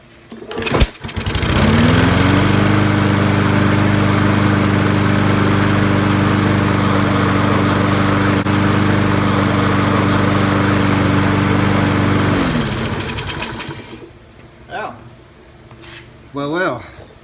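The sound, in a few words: Toro self-propelled lawn mower engine running after carburetor repair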